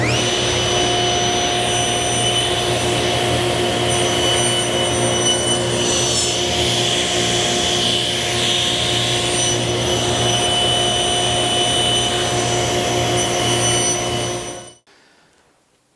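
Table saw cutting small wood pieces on a sled while making a golf ball puzzle, a loud, steady, high-pitched whine running continuously for about fifteen seconds before cutting off, with no talking.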